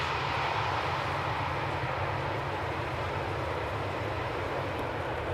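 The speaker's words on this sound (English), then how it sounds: "Transavia using the reversers" A Transavia airliner arriving from Catalonia lands at Schiphol using its thrust reversers, a sustained, even rumbling roar heard from a distance with no talking.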